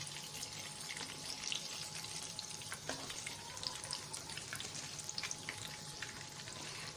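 Leftover chapati cutlets sizzle in a pan over medium heat, a steady close frying crackle throughout with a brief clink partway, no talking.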